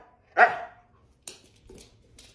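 A dog lets out one loud, close bark, then a few faint, brief noises follow in an otherwise quiet indoor room.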